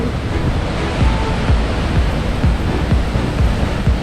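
Huka Falls in New Zealand sends a loud, steady roar of rushing water and heavy spray, a dense unbroken wash of sound with no voices over it.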